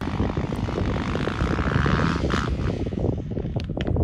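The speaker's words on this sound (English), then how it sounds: "The sound of 2 strokes and 4 strokes in the distance" Steady droning noise from two-stroke and four-stroke engines, continuous and fairly loud, with a rough buzzing texture throughout and no voices.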